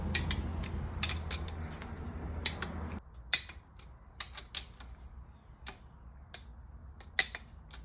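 Torque wrench tightening bolts on a Ford 5.4 4v engine in an F150, heard as a series of sharp clicks and ratcheting snaps over a faint background, close but quiet, with no talking.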